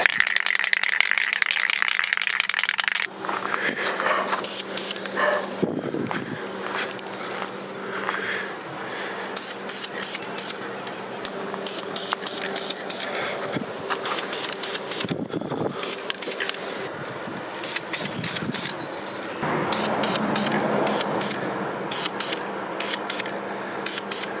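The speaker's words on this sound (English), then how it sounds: "I've got to spray a little bit of primer coat on that" Short hissing bursts of a spray can laying primer onto a 2001 GMC Sierra 2500HD pickup, in repeated spurts separated by brief pauses, with rattling and scraping handling noises between them.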